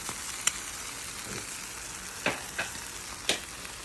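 Egg and turkey sausage frying in a pan for a breakfast sandwich, a steady soft sizzle with a few sharp utensil clicks and scrapes spaced through it, no voices.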